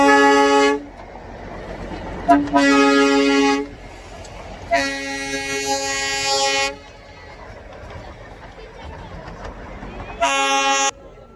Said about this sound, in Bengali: আর একটা টয় ট্রেন আসছে, কিন্তু এটা ডিজেল যদিও বাট হ্যাঁ আর একটা।